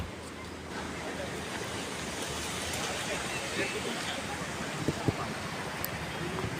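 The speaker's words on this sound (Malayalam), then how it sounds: "നമുക്ക് ഇവിടുന്ന് വെള്ളച്ചാട്ടത്തിന് സൗണ്ടൊക്കെ കേൾക്കാം" A distant waterfall in Attappadi gives a broad, steady rushing roar, mixed with wind buffeting the microphone and a few faint knocks near the end.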